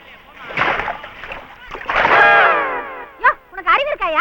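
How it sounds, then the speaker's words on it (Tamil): Water is poured on a person, and a loud splash and slosh rise in a burst between excited voices. Shouted speech follows right after. "ஏன் என் மேல தண்ணி ஊத்துன?"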